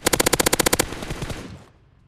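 Rapid automatic gunfire from the video game PUBG: a tight, evenly spaced burst of about a dozen loud shots, followed by a ringing tail that fades away over the next second.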